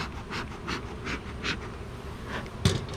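Bees buzz softly and steadily nearby during a beehive inspection, their drone rising and falling in pulses, with a brief thump near the end.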